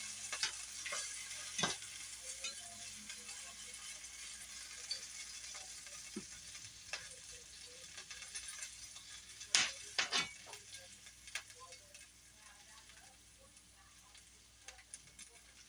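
A turkey smash burger patty sizzles quietly and steadily in a hot pan, with a few sharp scrapes and clinks from the turner cutting through the low frying hiss.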